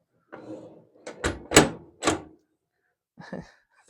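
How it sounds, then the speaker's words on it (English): The door of an old McClary cast iron woodstove is opened with a few close, heavy metallic clunks and scrapes in quick succession, then a softer clatter after a brief pause. "That's where you open the stove."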